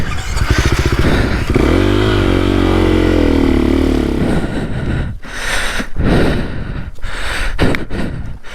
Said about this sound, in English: Let me move my bike up here so it's out of your way.